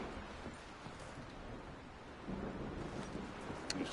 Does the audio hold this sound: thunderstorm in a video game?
yes